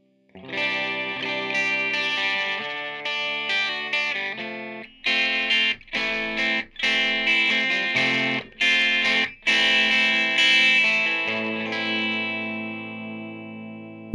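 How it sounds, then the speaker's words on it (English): Electric guitar played through a Neural Amp Modeler JCM 2000 profile with a Vox cabinet, distorted sustained chords and notes with several short stops and restarts, ending on a long ringing chord. "so that's JCM 2000 using some Vox cabinet"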